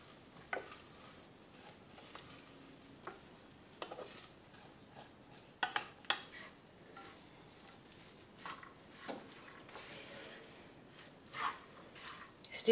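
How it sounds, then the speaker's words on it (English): Lentils, rice and fried onions are stirred through in a pan, giving soft, scattered scraping and clinking strokes with a faint sizzle underneath, quiet and close. "Stirring them through carefully."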